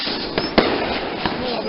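A firework cake shooting off at a lake: several sharp cracks and pops over a steady rushing roar, with people talking nearby.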